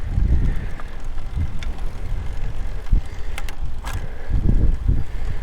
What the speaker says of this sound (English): we got a wind out of the south today